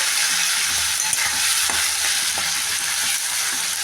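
Spices and potato fry in oil with cumin, bay leaf, ginger and tomato, giving a loud, continuous sizzle and crackle that stays close and even throughout.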